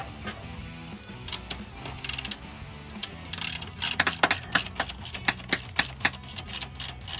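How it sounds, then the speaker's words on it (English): A ratchet wrench tightening the clamp bolts on a BBK catted X-pipe under a 2011-2014 Mustang V6, with rapid clicking bursts that speed up and grow louder toward the end, close by. "Let me tighten these up a little bit."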